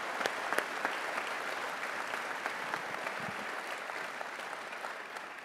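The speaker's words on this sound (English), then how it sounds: "How about another round of applause for Jamie?" An audience at an onstage conversation event claps steadily, a sustained wash of many hands at moderate distance with a few sharper claps near the start, fading only slightly toward the end.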